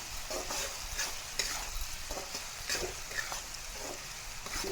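Turmeric being stir-fried with potatoes in a pan for a metека flower fry, giving a steady sizzle broken by repeated scraping strokes of the spatula, close and fairly loud with no voices.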